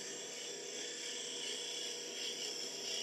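A wood lathe spins a peppermill blank as a tool makes a cut, a steady high whirring and hiss held at an even level close by, with no talking.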